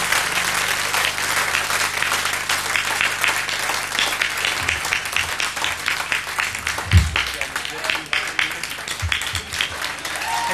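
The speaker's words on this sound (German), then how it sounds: "da ist mal ein Applaus wert oder so" Audience applause at a live radio concert by a band, a dense, sustained wash of clapping from a crowd filling the whole stretch, with some cheering mixed in.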